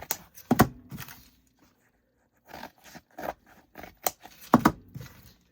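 Scissors cutting uneven pieces of material for primitive decor, several close rasping snips and short scrapes in bursts separated by quiet pauses.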